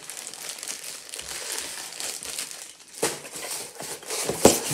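Crinkling and crushing of tough plastic packaging being unwrapped from a professional-strength main line cleaner, a steady close rustle with louder crackling bursts near the end.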